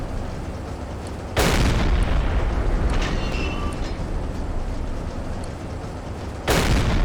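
Two loud, heavy torpedo explosions strike a ship in Silent Hunter 3 several seconds apart, each a sudden booming blast followed by a long rumbling decay.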